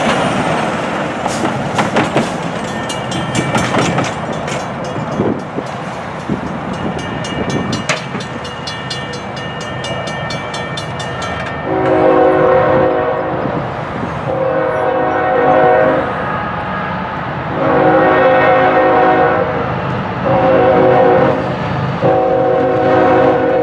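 A Norfolk Southern train rumbles past close by at Richwood, Kentucky, its wheels clattering, while a loud horn blasts repeatedly in long pulsing blares.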